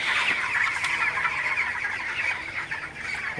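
Twenty-one-day-old broiler chickens, over a kilogram each, in a hot poultry house, a constant crowded murmur of clucks and chirps from many birds, fairly loud and close, with no talk.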